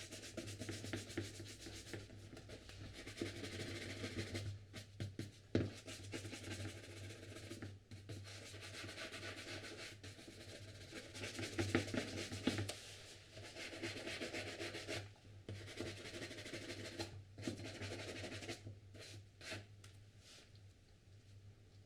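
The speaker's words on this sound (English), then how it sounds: "we're brushing the polish" Close, steady rubbing and scrubbing of a brush working polish into leather boots, continuing in repeated strokes with brief pauses and no talking.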